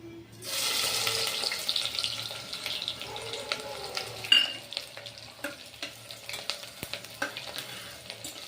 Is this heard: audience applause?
no